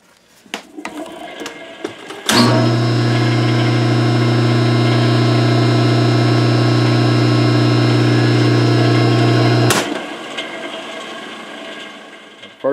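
A three-phase electric motor running on single-phase power after a rope start hums loudly and steadily for about seven seconds with a strong tonal drone, then cuts off abruptly, with scattered clunks and handling noises before and after.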